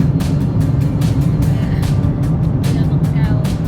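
A car drives along a rural road toward the forest, with steady engine and tire rumble and rhythmic wind buffeting throughout while someone talks over it.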